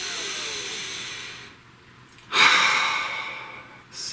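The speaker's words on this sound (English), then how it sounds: "please take a nice deep breath." A single deep breath, heard close and alone: a long airy inhale, a short pause, then a strong breathy exhale that trails off, followed by a softer breath at the end.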